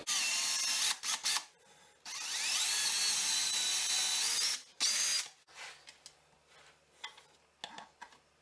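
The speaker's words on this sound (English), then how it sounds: "drilling some holes" A power drill whirs in loud bursts, with one long sustained run in the middle and shorter revs around it, followed by quieter clicks and handling noises.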